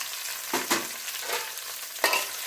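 Finely chopped onions with a little coriander hiss and crackle in a hot pan for a chicken curry, with a few louder scraping bursts as they are stirred.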